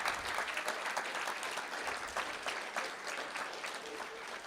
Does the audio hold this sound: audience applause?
yes